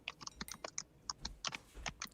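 Quiet typing on a computer keyboard, a soft, irregular run of close key clicks and taps heard alone, with brief pauses between bursts.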